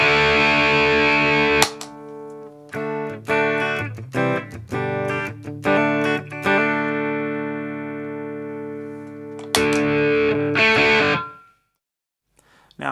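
Electric guitar played through a Zoo Drive overdrive pedal into the clean channel of an amp with a 4x12 cabinet: a sequence of crunchy picked notes and ringing chords, sustained with gaps between phrases, then a final strummed chord fading out.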